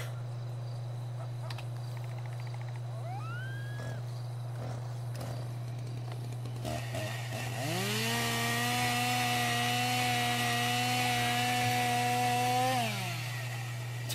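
A chainsaw cutting a tree in a multiplayer video game: the engine idles quietly at first, then revs up into a loud, sustained cutting whine for about five seconds before dropping off.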